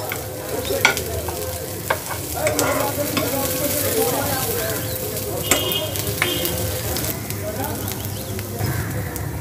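Dates and dry fruits frying and being stirred in a pan, giving a steady close sizzle with scattered scraping clicks from the stirring, and a voice talking faintly underneath.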